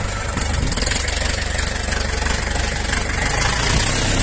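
A mini tractor engine idles steadily with a low, even chugging rumble that holds constant throughout, fairly close and with no voices.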